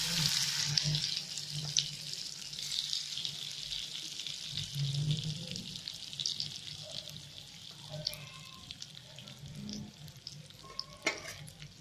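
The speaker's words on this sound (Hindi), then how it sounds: "अब हम भिंडी को कढ़ाई में डालते हैं" Masala-stuffed okra frying in a kadhai gives a continuous hissing sizzle, fairly close and even, with faint clinks and stirring noises over it and no voices.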